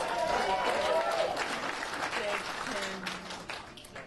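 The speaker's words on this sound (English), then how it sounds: "You can keep clapping." An audience at a comedy club claps and cheers, loud at first and then tapering off, with a voice speaking over the applause.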